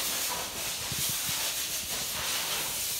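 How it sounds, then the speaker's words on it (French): Compressed air from a blow gun hisses continuously for a few seconds in a scooter workshop, a steady broadband rush at moderate level. "ce bruit de soufflette"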